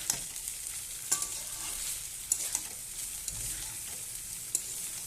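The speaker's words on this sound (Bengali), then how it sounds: "এবার আমি পাস্তাটা দিয়ে দেব। এবার আমি ভালোভাবে নেড়ে দেবো।" Boiled pasta is stirred in a hot pan, a constant bright sizzle with several sharp scraping taps from the utensil at close range and no speech.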